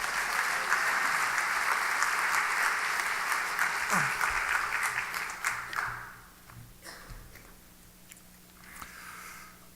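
A church congregation at a Wednesday evening worship service applauds to welcome a guest pastor, steady dense clapping filling the room for about six seconds before fading into quieter scattered claps and murmuring.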